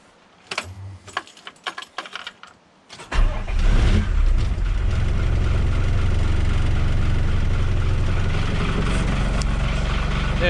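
A car engine turns over with a series of quick clicks and cranks, catches about three seconds in, then settles into a loud, steady idle running close by for the rest of the time.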